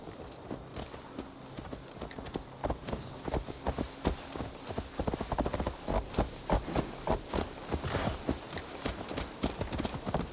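Horse hooves clip-clop in Assassin's Creed Valhalla, a steady rhythmic trot of hoofbeats that grows louder and more regular, alone over faint game ambience.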